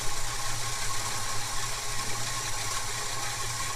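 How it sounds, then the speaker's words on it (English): A Holden HK Premier wagon engine with a freshly repaired Holley carburettor idles steadily, a close, even low rumble with slight rattle and vibration, no voices. "I'm just going to let it idle for a bit."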